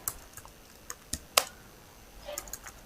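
Scattered keystrokes on a computer keyboard during a database coding session, a few separate clicks and one sharper tap, then a short quick cluster near the end, close and fairly quiet with no talk.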